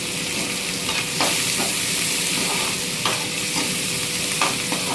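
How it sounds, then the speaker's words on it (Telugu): Onions frying in a pan with salt while being stirred, a steady sizzle broken by repeated scraping strokes of the spoon, close and alone without talk. "ఉల్లిపాయలో కూడా కొంచెం సాల్ట్ వేస్తే త్వరగా వేగతాయి"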